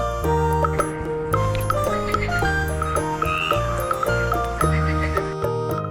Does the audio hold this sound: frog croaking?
yes